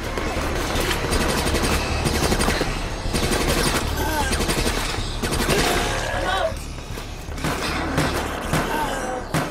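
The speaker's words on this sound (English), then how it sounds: "you fire incendiary rounds at zombies, lighting them all on fire" Rapid incendiary-round gunfire in Resident Evil: Operation Raccoon City, a dense, loud barrage of repeated shots with thuds and game effects running steadily throughout.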